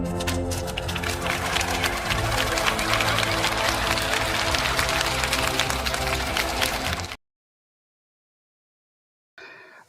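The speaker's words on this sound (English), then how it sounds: "with a round of applause, let's make welcome to Elevate" A conference audience gives a loud, dense round of applause to welcome a speaker in a hall, sustained for several seconds before cutting off abruptly, with a voice briefly resuming afterward.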